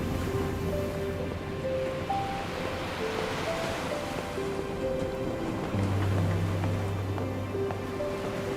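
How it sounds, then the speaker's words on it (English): Turbulent ocean waves surge around a ship at sea in the video game NieR Re[in]carnation, a continuous rolling wash with wind, laid under soft sustained musical tones. "Fighting against the turbulent waves, the boy runs to the bow of the ship."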